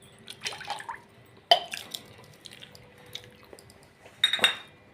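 Water trickles into a drinking glass at home in a few short bursts of dripping and light clinking, with quiet gaps between them and no voices.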